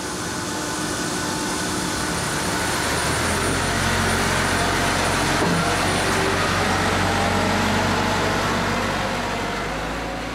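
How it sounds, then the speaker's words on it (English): Aircraft engines roar steadily and loudly during pushback at Bristol Airport, a continuous broadband jet rumble with no speech for the whole stretch. "The final moments of departure are here, and the pushback of the aircraft can at last get underway."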